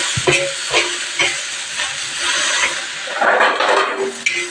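Vegetables fry in oil in a pan, with a spoon stirring in repeated scraping strokes over a steady close sizzle that grows busier toward the end.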